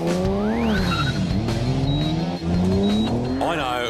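A racing car driven hard on a hot lap, engine revving up and down through gears with tires squealing, loud and close, with a voice talking over it.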